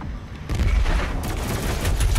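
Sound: stationary gun turret firing in the video game Doom Eternal

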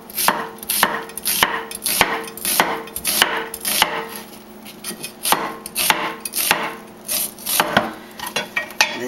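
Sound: knife slicing an onion thinly

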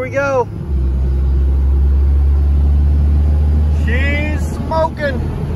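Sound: compound turbo 12V farm truck driving at highway speed

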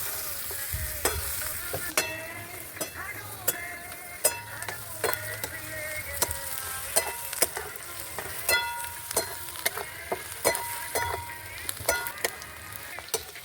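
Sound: chopped onion roasting in a pan

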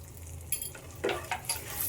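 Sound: frying chilli powder and turmeric in oil

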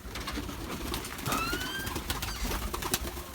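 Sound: pigeons

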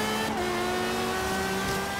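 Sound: Renault Clio car engine in Forza Horizon 3 video game

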